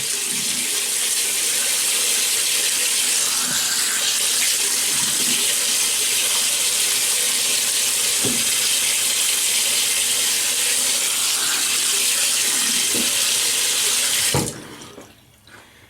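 A bathroom tap runs steadily into a sink as the face is wetted before shaving, a loud, continuous close splash with occasional small knocks and a few hand sounds, cut off abruptly near the end.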